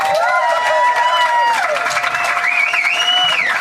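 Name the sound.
audience applause at a live podcast recording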